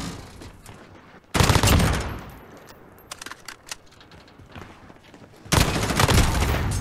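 Bursts of rapid gunfire in a competitive shooter video game match, with an MP5 submachine gun in play, loud volleys at the start and end separated by scattered quieter shots and clicks.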